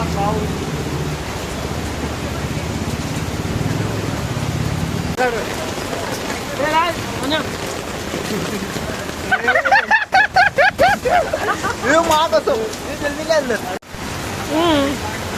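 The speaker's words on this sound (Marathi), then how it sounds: "थंड एवढा पाऊस पडतो" Heavy rain pouring in Goregaon West, Mumbai, makes a dense, steady hiss that fills the first seconds, then continues beneath close voices talking.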